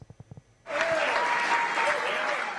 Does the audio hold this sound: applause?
yes